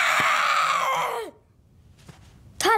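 A voice imitates a child-style monster scream: a loud, sustained wail that falls off and fades, a brief quiet pause, then a second shorter rising cry.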